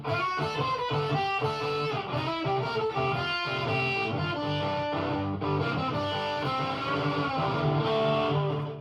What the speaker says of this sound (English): listen to this turnaround